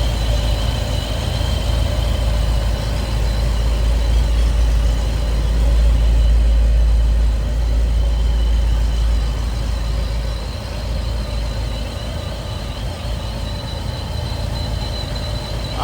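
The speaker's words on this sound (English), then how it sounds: "You can hear that Pro Charger over here." A ProCharger supercharger on the engine of a 2014 Jeep Grand Cherokee SRT fitted with a Holley Sniper EFI intake, heard as a loud, steady idling drone with a continuous high whine, close up and without talk.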